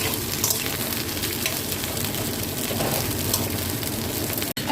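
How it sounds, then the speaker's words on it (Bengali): Chopped vegetables fry in a pan with a little oil, sprinkled with sugar and chili powder. The sizzle is loud, close and continuous, with faint stirring crackles and one abrupt break just before the end. "প্রথমে আনাজগুলো আমি একটু ভেজে নেব"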